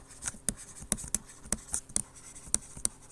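Chalk or marker strokes on a board during a physics lecture on angular momentum: a string of sharp, quick taps and scratches in an irregular rhythm, close and fairly clear, with no talk over them.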